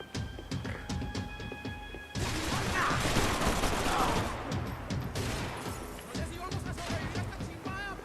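Gunfire rattles through a Max Payne 3 shootout aboard a yacht: rapid bursts and sharp shots, loud and dense, with mechanical clacks and scattered game voices underneath.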